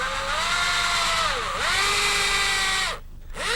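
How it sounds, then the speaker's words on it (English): A power drill whines loudly, its pitch dropping and rising as it bites into wood, drilling shallow holes about a quarter inch deep, with a brief pause near the end. "And that'll become a guide for drilling the holes."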